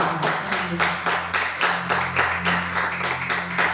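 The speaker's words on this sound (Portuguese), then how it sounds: "Aplauda o Senhor" A church congregation claps together in a steady, even rhythm, loud and close, roughly six claps per second sustained throughout with a faint low hum underneath.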